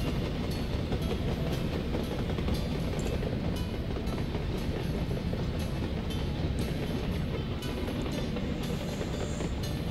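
A locomotive and rail cars run continuously in the Soviet-era city-building game Workers & Resources: Soviet Republic, a loud, steady rumble with regular clickety-clack wheel beats throughout and no talk.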